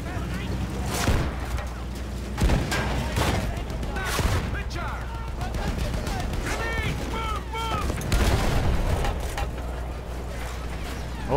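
Gunfire in the video game Battlefield 1 on PC during the Night Hunter war story, with dense volleys of shots and booming blasts cracking repeatedly over a low rumble while a voice talks over the action.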